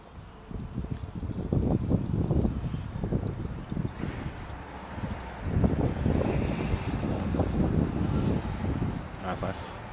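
Hard crosswind gusting through open windows into a room, a rushing roar that swells and fades in bursts, with a person talking over it.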